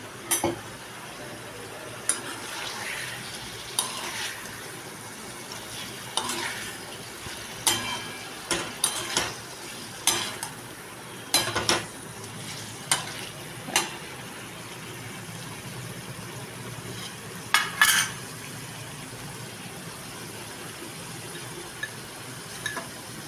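A paneer dish gently stirred in a pan, sparse soft clicks and scrapes of a spoon against metal scattered over a quiet background hiss, faint and intermittent.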